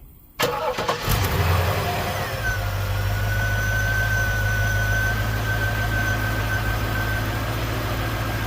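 A Buick Roadmaster, Chevrolet Impala or Caprice engine cranks briefly, catches and settles into a loud, steady idle with a faint whine, close up and alone.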